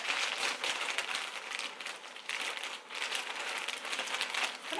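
A plastic shipping package from a clothing haul is cut open up close, giving a steady rustling, crinkling plastic sound that runs throughout with brief dips.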